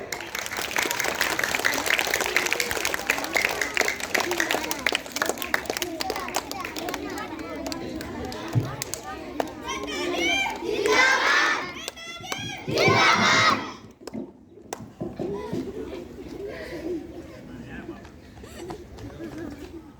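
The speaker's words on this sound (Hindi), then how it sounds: "आप सभी से रिक्वेस्ट है कि हमारे नेता का ताली बजा के आप स्वागत करें।" School students at an independence-day debate clap and cheer to welcome a speaker, a loud sustained crowd roar of applause, shouts and children's voices that swells in bursts before thinning out.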